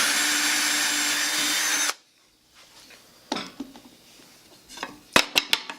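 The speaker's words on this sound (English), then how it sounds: "How that drill reverses itself without my direction" A power drill whirs loudly for about two seconds during a woodworking jig build, then stops abruptly, followed by quieter workshop handling sounds and a few sharp wooden knocks.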